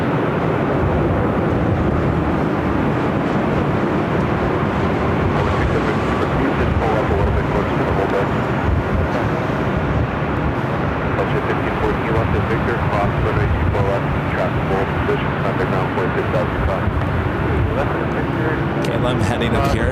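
A Boeing 787-9 Dreamliner, flight 802 from Hong Kong, landing at LAX: a loud, continuous, broadband jet roar and rumble that holds steady the whole time.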